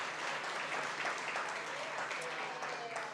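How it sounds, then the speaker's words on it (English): Audience applause at a university awards ceremony, a steady dense wash of clapping throughout with a murmur of voices mixed in. "A round of applause"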